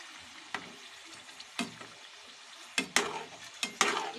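Chicken frying in a karahi for Shinwari chicken karahi, a quiet sizzle underneath while a utensil stirs and scrapes the pan in a handful of sharp, close knocks.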